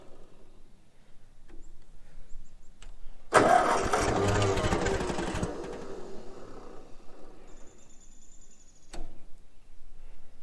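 A project vehicle with wheel brakes and a clutch is cranked with its starter, catching into a loud, rough burst of engine running for about two seconds before dying, with quiet surroundings before and after.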